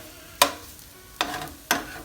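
Sausage cooking in its own fat on a stove at medium heat, no oil added: three quick scraping, stirring strokes over a faint, quiet sizzle, close by.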